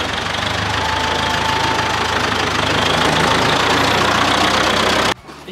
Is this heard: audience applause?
no